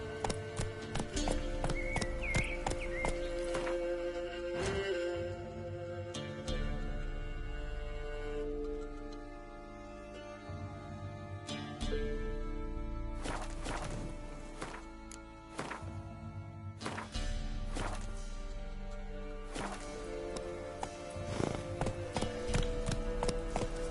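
Horse hooves clip-clopping in The Witcher 3, a steady, close rhythm of hoof strikes at a trot or gallop that continues through the whole stretch, mixed with game ambience and no talk.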